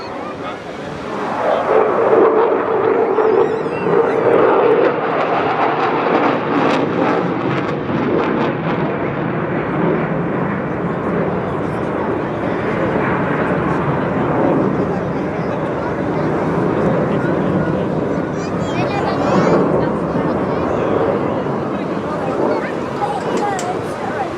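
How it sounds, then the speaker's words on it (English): Jet aircraft performing at the English Riviera Airshow, throttled back and slowing after aileron rolls, a steady broad roar sustained throughout with wind buffeting, while a commentator talks over it continuously. "Slowing the jet down a little bit."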